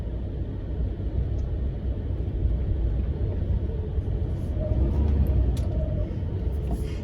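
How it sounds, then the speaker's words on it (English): A big lorry manoeuvres slowly along a narrow country lane, a steady low engine rumble with broadband road noise that swells slightly midway, heard without talk. "There we got a big lorry there doing a bit of a manoeuvre."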